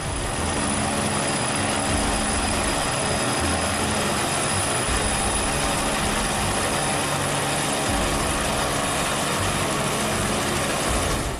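A helicopter in a rescue operation among sharp rocky mountain peaks, its rotor and turbine roaring loudly and continuously with a steady mechanical chop throughout, close and unbroken, with no voices over it.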